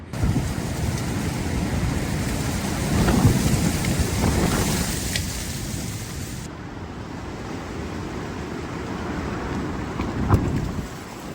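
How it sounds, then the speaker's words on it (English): Strong storm winds at dawn during hammock camping roar in a steady, loud, broadband rush with gusting swells, close and constant with no talk. "5 a.m. and the winds have really ramped up now."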